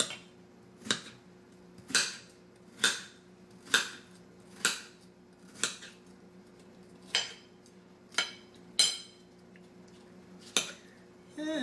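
A knife chops watermelon into chunks on a board, making about a dozen crisp, evenly spaced cuts, each a sharp thunk with a short wet crunch, close and clear over quiet background hum.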